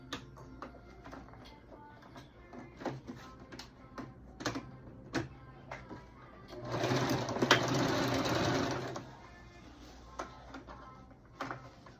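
A sewing machine runs a straight stitch to attach bias tape along the raw edge of a toddler dress sleeve hem, with scattered ticks and taps before a steady, loud whirring burst of stitching lasting about two seconds.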